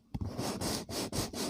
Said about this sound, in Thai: เสียงเกาหัวเนาะ เกาหัวเกาหูเนาะ